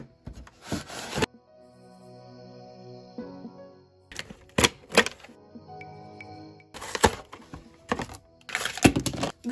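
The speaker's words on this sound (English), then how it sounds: "Let's get these dolls out from the packaging." Barbie Looks dolls being pulled out of their packaging, with bursts of crinkling plastic and cardboard rustling at close range, separated by quieter pauses and faint steady tones, no talking.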